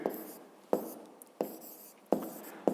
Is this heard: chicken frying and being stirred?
no